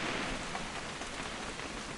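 Steady rain in the video game What Remains of Edith Finch, a dense even hiss of falling drops with no distinct thunder, heard alone at a constant moderate level throughout.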